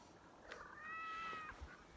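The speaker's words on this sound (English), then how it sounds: "We have a feral cat, Shadow Kitty." A feral female cat in heat gives one drawn-out, wavering meow outdoors, fairly faint against a quiet background.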